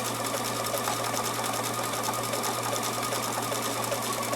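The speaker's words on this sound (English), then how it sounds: "I'm sewing the same stitch" A domestic sewing machine with an automatic sensor foot lifter runs a steady, continuous smocking stitch, its fast even whirr loud and close throughout with no talk over it.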